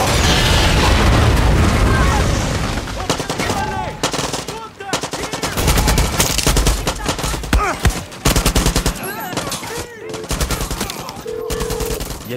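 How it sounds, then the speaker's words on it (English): Explosives rigged on a door detonate amid heavy gunfire in the video game Far Cry 6, a loud boom followed by rapid bursts of automatic fire and scattered blasts, with voices talking over the battle. "The door is prepped with explosives."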